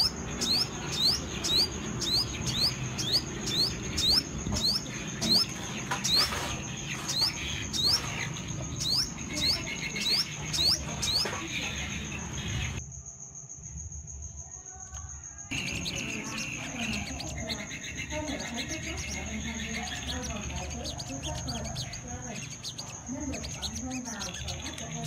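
A caged sunbird sings a rapid, repeated high chirping phrase over and over, bright and close, with a steady background hum and brief pauses in the song.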